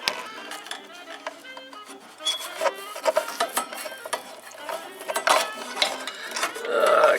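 A toothbrush scrubs and clicks against ceramic insulators on the tuning capacitors of a vintage Valiant radio, producing irregular scratchy brushing with small rattling taps, fairly close and uneven in rhythm.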